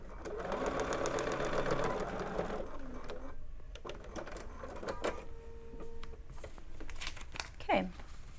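A BERNINA sewing machine stitching through fabric with the paper pattern still attached runs in a rapid mechanical rattle, then slows into lighter taps and rustles of paper, with a person speaking softly over it.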